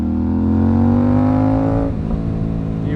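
An Aprilia RS457 motorcycle engine running without a silencer revs up steadily in rising pitch, then drops back to a rough idle, loud and close with no voices.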